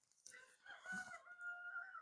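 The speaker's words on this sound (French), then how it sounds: "c'est encore le coq qui vient de chanter" A rooster crows once at a distance, faint but clear, in a quiet rural spot with no other voices or noise.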